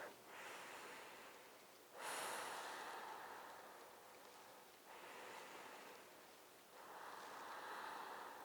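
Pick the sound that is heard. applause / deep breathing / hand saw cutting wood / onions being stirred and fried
deep breathing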